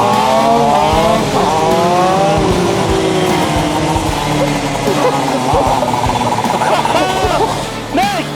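A powerful racing kart driven at speed gives a loud, close, sustained engine roar with rising and falling revs across the run and brief tyre squeal near the end.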